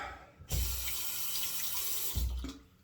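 A tap runs water to rinse a razor, a close steady splashing stream that starts abruptly, flows for about two seconds, then stops.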